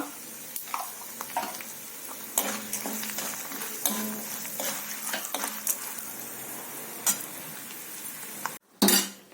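Mustard seeds, cumin and a pinch of asafoetida sizzle and pop in hot oil for coconut rice, a dense crackling fry with sharp spatters, light utensil clinks and a brief pause near the end.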